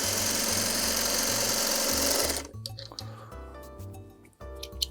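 A sewing machine stitching quilt fabric runs in a steady, loud whirring stretch for about two seconds, then stops, leaving quieter handling noises and faint taps.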